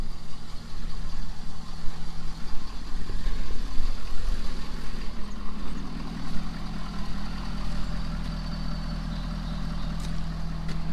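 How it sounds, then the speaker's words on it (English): A Ford Powerstroke diesel truck fitted with an S&B air intake idles nearby with a steady low rumble and faint ticking, loud and continuous with slight swells, and no talk. "even with the truck sitting right now idling,"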